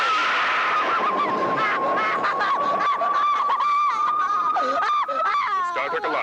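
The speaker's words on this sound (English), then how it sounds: "I'll just set me phaser for wakey wakey." A Star Trek-style phaser effect in a comedy alarm-clock sketch: a sustained, wavering electronic whine with warbling sweeps and squawky bends, lasting several seconds.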